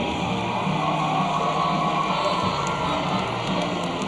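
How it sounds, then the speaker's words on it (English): A steady roar of crowd cheering and shouting fills an arena at a Florida versus Arkansas college gymnastics meet, dense and continuous without a break. "a big round of applause to all of our gymnasts in the competition this evening"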